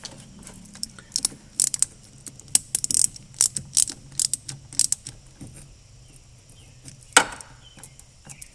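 Ratchet working on the ignition coil connections of a 1979 Porsche 928, giving a series of short, sharp clicking bursts spread unevenly across the clip, close and fairly clear, with one louder rasp near the end.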